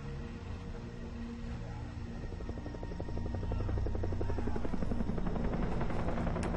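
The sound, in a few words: helicopter in the video game Far Cry 3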